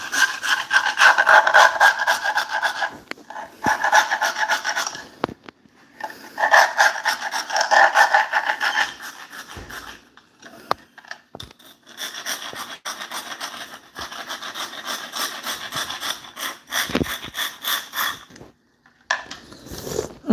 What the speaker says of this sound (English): I'm cleaning the grout and I'm also taking the grout down